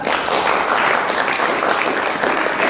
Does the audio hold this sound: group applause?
yes